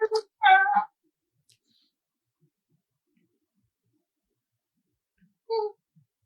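A voices a cat-like meow, imitating a cat in short vocal bursts: two quick calls at the start, then silence, and one more brief meow near the end.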